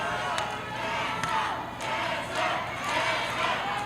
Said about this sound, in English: You can hear this crowd behind Tessa Blanchard, behind the third-generation superstar.